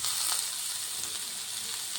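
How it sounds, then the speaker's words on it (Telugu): Onions and green chillies frying in hot oil for a homemade Indian-style fish curry, giving a steady, close, dense sizzle with a soft crackle and no voices. "ఆయిల్ హీట్ అయిపోయింది కదా, ఇప్పుడు ఇందులో మనం ఒక కప్పు ఆనియన్స్ యాడ్ చేసుకున్నాము."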